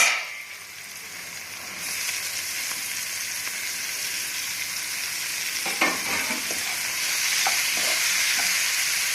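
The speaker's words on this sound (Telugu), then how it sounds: "ఇలా ఫ్రై అయిపోయింది కదా, దీంట్లో క్యాప్సికమ్ వేసుకుందాం" Onions and capsicum sizzle steadily in a pan for a potato capsicum curry, a continuous close hiss with occasional scraping stirs and clatters, no voices.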